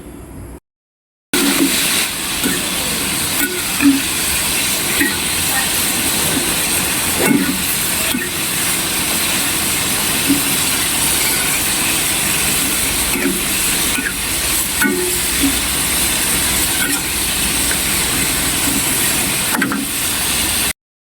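Chicken liver frying in a hot pan gives a loud, continuous sizzling hiss that runs for about twenty seconds after a short silent break at the start, with scattered small pops and crackles.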